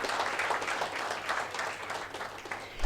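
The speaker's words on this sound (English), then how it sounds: "I request you all you carry out this vote of thanks with a big round of applause." Closing vote-of-thanks applause from attendees at a study course on FEMA, a short burst of steady, moderately loud clapping with no voices.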